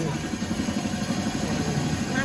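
A motorcycle engine idles steadily close by in Sydney, Australia, with a low, even, throbbing pulse that continues without a break for the whole stretch.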